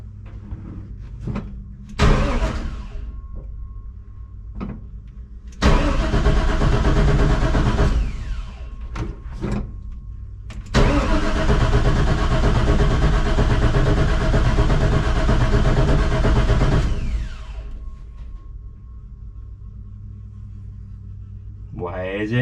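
A 339 stroker small-block Chevy with a mini starter cranks in several long, loud, churning bursts that do not catch, with short pauses between attempts.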